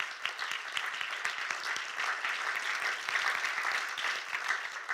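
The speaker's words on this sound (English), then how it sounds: "They also deserve a round of applause." A room of attendees at an evening policy lab event gives a round of applause, with steady, moderately loud clapping throughout and no voices heard.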